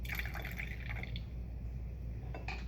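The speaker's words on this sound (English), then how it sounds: "And decant." Liquid is decanted off a solid in a chemistry lab, a soft continuous trickle into glassware with faint dripping and a few brighter splashes, steady and close throughout.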